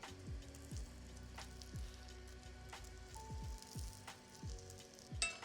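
Burger buns sizzle in melted butter in a skillet for a crab cake sandwich, a quiet, steady crackling fizz broken by a few low tapping thumps from the pan.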